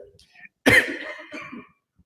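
During a live TV broadcast about a city council ward election, a single sharp cough bursts out after a quiet moment, followed by a brief throat-clearing rasp and faint voice sounds.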